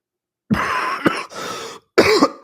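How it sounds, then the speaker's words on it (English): A person coughs several times in quick bursts, loud and close, with short pauses between the harsh, rasping coughs. "I swear this word coughing makes you want to cough."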